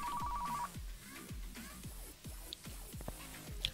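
Telephone ringing in a video game: a steady electronic ring for about the first half-second, then a run of quick, sweeping game effects that keep a busy rhythm.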